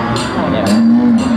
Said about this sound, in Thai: วัวเยอะมากครับ